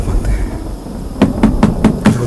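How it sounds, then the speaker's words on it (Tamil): Five quick knocks on a door in a Tamil short film, fairly close and evenly spaced, arriving after a quieter stretch of low background rumble. "அடிக்கிற சத்தம் கேட்டுச்சு."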